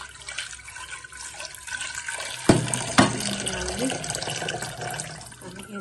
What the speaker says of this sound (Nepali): अनि यसमा पानी थप्ने